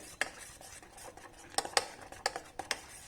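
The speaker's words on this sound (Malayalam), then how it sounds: "ഒരു 4-5 മിനിറ്റ് നമ്മൾ ഇതൊന്ന് ഇളക്കി കൊടുത്തോണ്ടേയിരിക്കണം ഇതുപോലെ" A mango pudding mixture stirred in a pan over a medium flame, with irregular sharp clinks and scrapes of a spoon against metal over a soft, low bubbling hiss, close and without voices.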